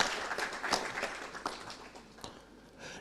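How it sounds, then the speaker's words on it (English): Conference audience applause rings out at an energy efficiency and electric mobility event, a moderate burst of many hands clapping that thins and fades over a few seconds. "let's give a big round of applause to the Country Director, SNV, Pomolo Mafosa"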